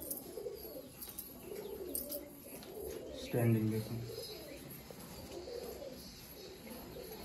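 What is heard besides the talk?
Andhra red-headed female pigeon cooing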